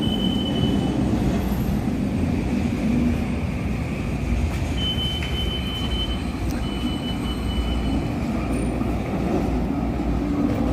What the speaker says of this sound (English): The trains here don't wait very long.